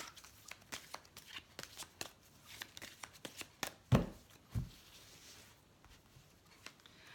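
Oracle cards are shuffled for a tarot reading, with a quick series of soft riffling slaps and taps close by, quiet overall with a couple of sharper knocks midway.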